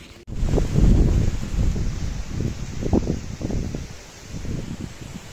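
Cold, rainy wind blows outdoors in Spain, a steady broadband rush with gusty low rumbles swelling and easing throughout, loud at the start and then continuing at a moderate level with no one speaking.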